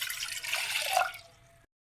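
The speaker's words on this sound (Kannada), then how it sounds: "1 ಗ್ಲಾಸು ನೀರು ಹಾಕಬೇಕು" Water poured from a glass into a pot on a stove, a short, quiet splash and trickle that fades out quickly.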